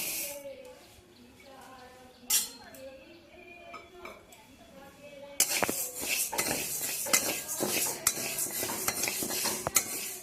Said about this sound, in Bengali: মুগ ডালটা ভেজে নেব।